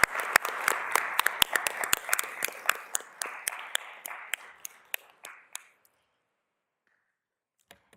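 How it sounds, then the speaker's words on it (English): A council chamber audience claps for the Bailey family in recognition of their heritage preservation work, a lively burst of individual claps that thins out and stops after about six seconds, leaving near silence. "big round of applause."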